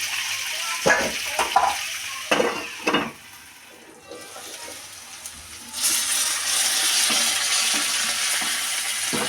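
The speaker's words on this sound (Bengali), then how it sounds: "আলু পটলটা দিয়ে আমি ভালো করে ভেজে নেবো।" Potato and pointed gourd fry in a pan, with scraping stir clatters early on, then a steady loud sizzle that fills the rest, no voices.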